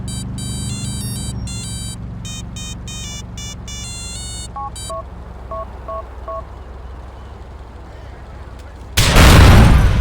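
A mobile phone ringtone from Grand Theft Auto 4 plays a rapid melody of bright electronic beeping tones, then a few sparser beeps, ending in a sudden loud noisy burst.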